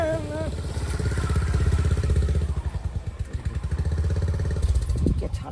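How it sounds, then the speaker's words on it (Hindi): A motorcycle pulls up at a house, its engine chugging loudly up close before settling into a rough, uneven idle, with a brief whine at the start and a clatter near the end. "मोटरसाइकिल लगा हमरा घर पर"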